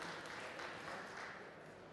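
Steady applause from an audience at a winemaker-cook competition, a dense wash of clapping that holds evenly throughout with no voices rising above it.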